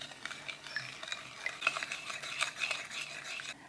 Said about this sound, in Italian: Mescolo il tutto facendo sciogliere il lievito.